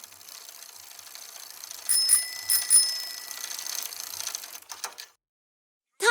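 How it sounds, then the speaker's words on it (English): A cartoon bicycle approaches with its bell ringing over a steady freewheel ratchet clicking; several bright bell rings sound midway, then everything cuts to silence. "At that moment, they could hear the sound of a bicycle."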